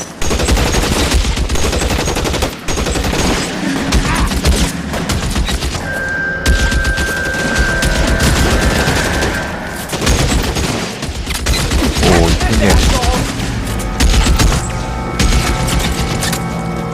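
Loud, sustained gunfire from L.A. Noire, with rapid fusillades and machine-gun bursts firing almost continuously and booming shots throughout, close and dense with no talking.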